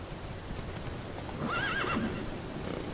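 A horse in The Witcher 3: Wild Hunt gives one clear, close whinny midway through while its hooves keep up a running clip-clop, and no one talks.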